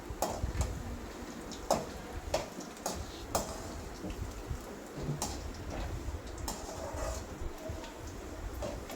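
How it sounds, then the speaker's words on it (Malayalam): A spoon scrapes and stirs nutmeg-rind medicinal pickle with garlic in a pan, producing repeated close clinks and taps over a faint sizzle at an irregular pace. "നന്നായിട്ട് ഇളക്കി കൊടുക്കണം"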